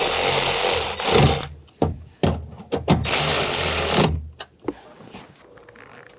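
Power tool whirring in short bursts as it snugs down rear speaker screws in a 2013-2016 Dodge Dart, several spurts of motor noise separated by quiet pauses, close and fairly loud, with no talking.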